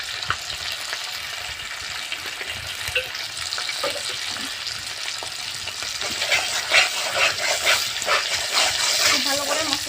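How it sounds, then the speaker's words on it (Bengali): Cashew and spice paste sautéing in a pan for chicken curry, a steady sizzle and frying hiss with intermittent stirring scrapes throughout, growing slightly louder toward the end, with faint background noise. "খুব ভালো করে মশলাটাকে কষিয়ে নেব।"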